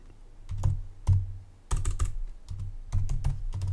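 Fingers typing a name on a computer keyboard in bursts of quick key clacks separated by short pauses, close and clear with no talking.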